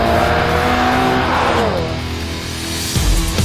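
A car on air suspension cornering hard on a skid pad, a loud, close engine drone held steady with a rising tire squeal, then easing off toward the end.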